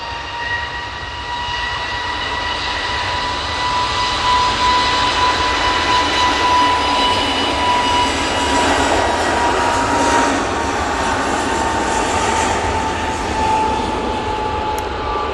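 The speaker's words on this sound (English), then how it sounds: "Beautiful KLM A321neo. Going back to Amsterdam Schiphol." KLM Airbus A321neo jet departing Manchester Airport toward Amsterdam, a loud sustained engine roar and broadband rush with a steady whine, continuous for the whole stretch with no talk.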